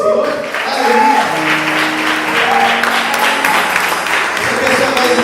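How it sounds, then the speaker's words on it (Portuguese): Loud congregational applause in a church during an anniversary service, sustained clapping mixed with voices and sustained tones in the background. "Você pode aplaudir ao Senhor?"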